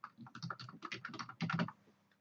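Rapid typing on a computer keyboard, used to write an HTML template in Django, runs as a dense run of clicky keystrokes for under two seconds, then trails off into near silence.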